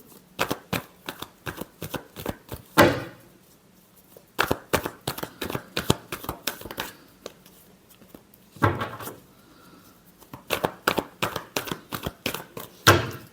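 Tarot cards riffle-shuffled by hand in quick crisp bursts, close and clear, with pauses and a few louder taps as the deck is squared between rounds.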